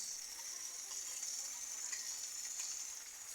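Chicken sizzles steadily in a pan with spice pastes of garlic, chili, turmeric, cumin and ginger plus salt, a constant bright frying hiss held at an even level with no one speaking.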